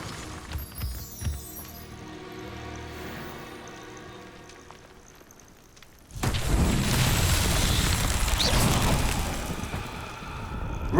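A Confringo blasting spell from the game Hogwarts Legacy bursts loud and close, a sudden broad roar that keeps rumbling and crackling for several seconds after a quieter stretch.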